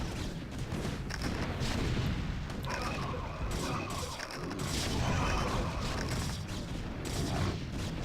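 Siege tanks in StarCraft pound an expansion with continuous heavy artillery fire, dense overlapping booms and crashes from a 2002 ladder game, loud and steady throughout with no voices.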